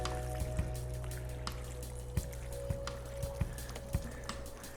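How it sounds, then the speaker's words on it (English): Water poured onto the soil of a planter patters and drips over a steady low hum, with scattered sharp drops landing irregularly, close and without talk. "we always wanna water in and give them a good watering"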